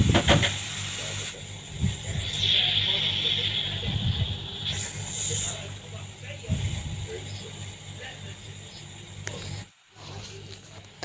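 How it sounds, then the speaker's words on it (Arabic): Marinated shawarma beef sizzling and hissing steadily in a hot pan as it is stirred and gives up its water, with occasional scraping and a voice talking over the cooking. "حطيت هنا كده اللحمه وهنبدا بقى كده نقلب فيها. طبعا هي هتنزل ميتها دلوقتي"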